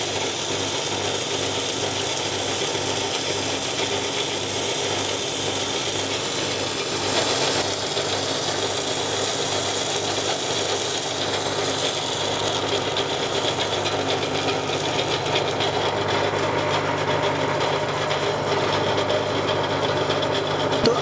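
Rice chips cutting machine running steadily, a loud continuous mechanical drone with a dense ratcheting clatter that persists throughout without pauses.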